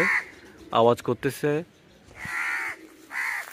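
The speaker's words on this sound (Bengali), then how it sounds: "ওই তো ভাই শালিক পাখি" Myna birds call near a farm with mango trees, several harsh, squawking calls in bursts, the first ones loud and close with ringing harmonics, later ones softer and raspier, separated by short quiet gaps.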